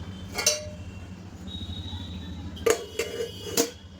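Prepared patoli, a sweet in turmeric leaves, are set into a steaming pot, producing a few close metallic clinks and clanks of utensils and pot over a quiet background.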